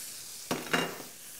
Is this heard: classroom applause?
no